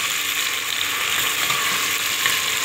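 Chopped onion fries for chicken curry in a pan with whole spices, giving a loud, dense, continuous sizzle that holds evenly throughout.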